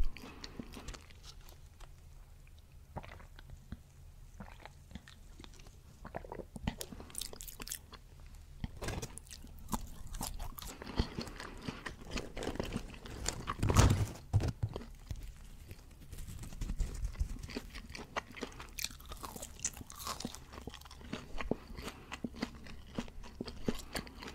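Crunchy McDonald's vegetable fries eaten close up, with repeated crisp bites and wet chewing in irregular bursts, loudest near the middle.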